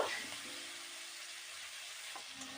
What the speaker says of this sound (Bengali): কড়াইয়ে যে তেল আছে এই তেলেই আমি কিন্তু ফুলকপিগুলো ঢেলে দিচ্ছি, আর ফুলকপিগুলো বেশ ভালো করে ভেজে নেব।